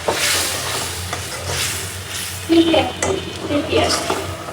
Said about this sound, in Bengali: এখন মশলাটা ভালো করে কষাই।